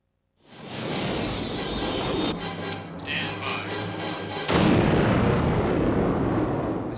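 A heavy, rumbling explosion-like blast roars in and sustains, with whooshing debris texture and a second surge partway through, loud and close.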